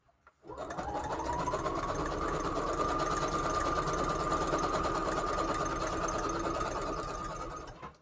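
A sewing machine stitches continuously for several seconds, a close, steady whirring drone with a rapid mechanical rhythm that spins up at the start and winds down at the end.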